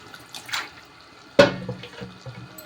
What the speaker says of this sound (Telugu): వాటర్ అయితే పోస్తున్నాము.